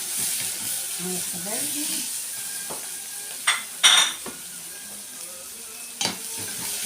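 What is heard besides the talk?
vegetables being stirred in a frying pot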